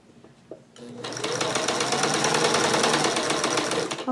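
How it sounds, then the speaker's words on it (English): A sewing machine fitted with a walking foot stitches a straight quarter-inch seam on a jelly roll quilt top, starting after a second of quiet and then running as a steady, close, fast mechanical whir to the end. "Okay, so we're just going to sew straight down."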